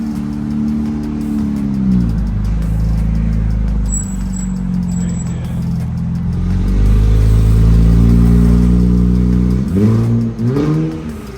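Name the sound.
2019 Infiniti Q50 twin-turbo engine running without exhaust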